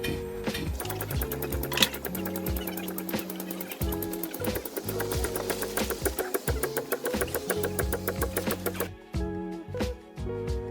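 A waste oil pump runs close by with a fast, rattling mechanical chatter and rhythmic clacking that varies in intensity, then thins out near the end as the pump seems to run dry.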